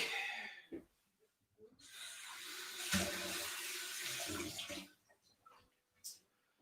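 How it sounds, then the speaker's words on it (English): Tap water runs over a cocktail jigger for a few seconds, a steady close splashing rush that stops abruptly, followed by a brief clink and quiet handling. "I just have to rinse my jigger so I can measure some milk."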